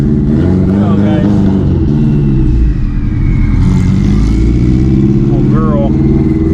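A tuned Subaru STI revs hard on a dyno, its engine climbing and dropping in loud sweeping pulls, close and dominant, while voices shout over it.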